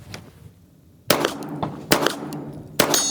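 Gunshots at an outdoor shooting range, three sharp loud reports spaced about a second apart, each followed by a brief ringing decay, with quiet ambient noise before the first shot.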